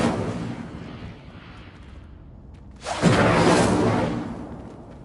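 An Incendio fire spell is cast in a video game: after a quieter, fading rumble, a loud fiery burst whooshes in and roars on for about two seconds before tapering off, with no voices.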